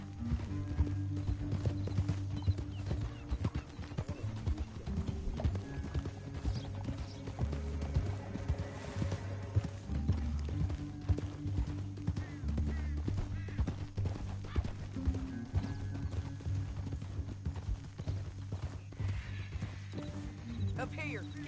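Horse hoofbeats while riding in the video game Red Dead Redemption 2, a steady clip-clop rhythm running throughout under a low musical drone, with a whinny standing out and a voice speaking over the gallop.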